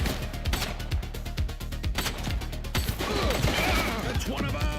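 Gunfire in the police shooter game Precinct: rapid bursts of loud shots crackling in quick succession, then scattered single cracks and rattling impacts, with a voice shouting briefly amid the shooting.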